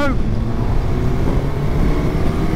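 BMW S1000 XR and Suzuki GSX-S1000 GX sports-touring motorcycles accelerate hard in fourth gear from about 40 mph, a loud, close engine roar that rises briefly at first and then holds steady, thickly layered with wind buffeting.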